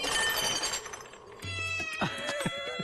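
A cat meows a few times, close and fairly clear, with short cries standing out over faint background noise.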